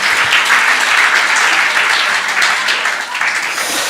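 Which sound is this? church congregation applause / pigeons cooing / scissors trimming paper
church congregation applause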